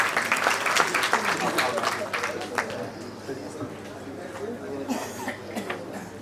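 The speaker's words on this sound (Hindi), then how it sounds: "एक बार बहुत जोरदार तालियां सब लोग बजा दें" Audience applause at a Saifi Day book launch gathering, loud broadband clapping for the first few seconds that thins and fades toward the end, with crowd chatter and some talk mixed in.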